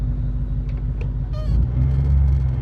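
A Coyote-powered Backdraft Cobra's engine rumbles steadily at close range while being parked, a deep low idle that swells louder in the second half, with no talk over it.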